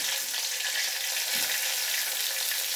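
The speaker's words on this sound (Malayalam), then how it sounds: "വെളിച്ചെണ്ണ ഒന്ന് ചൂടായി വരുമ്പോഴേക്കും നമുക്കതിൽ മല്ലിയില ഇട്ട് കൊടുക്കാം." Finely chopped coriander leaves sizzle in hot coconut oil. The frying hiss is steady and fairly loud and lasts throughout, with no talk.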